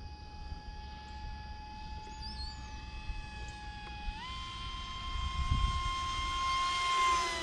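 An RMRC Recruit V2 radio-controlled airplane in flight, its motor a thin steady drone that rises in pitch partway through, heard from a distance outdoors with low wind rumble underneath.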